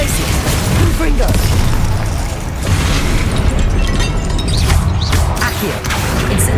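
Bursts of the Confringo explosive spell in the video game Hogwarts Legacy, a loud rumbling blast layered over dense combat effects, with a voice calling out spells throughout.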